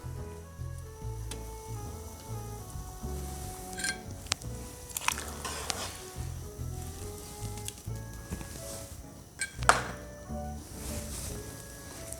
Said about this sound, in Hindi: इस टाइम पर मैं इसमें डालूंगी धुले हुए चावल।